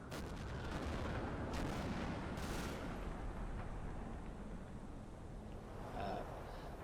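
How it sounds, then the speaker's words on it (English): Video game Hellcat tank destroyer firing on a church tower, a dense continuous roar of booming cannon and gunfire with a few sharper blasts, loud and steady throughout. "using the Hellcat to shoot up the church tower"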